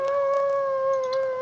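A wolf in the survival video game The Long Dark lets out a sustained, steady tonal howl, close and clear, held at one pitch for the whole moment.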